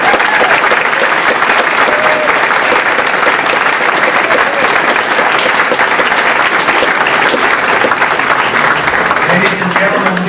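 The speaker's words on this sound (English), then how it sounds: "give all four of our presidential candidates a rousing applause" Sustained, loud crowd applause fills a campaign event for Tim Pawlenty in Johnson County, Iowa, a dense continuous roar of clapping with a voice faintly underneath near the end.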